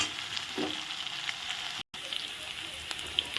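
Whole garlic cloves fry in oil for a fish curry, a soft, steady sizzle in the pan with occasional crackles and a brief dropout of sound midway.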